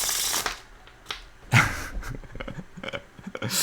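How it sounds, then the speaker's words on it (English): A deck of tarot cards being riffle shuffled close up, quick fluttering bursts of cards snapping together in several short runs with pauses between. "that's why, I believe riffle shuffling is the way to go."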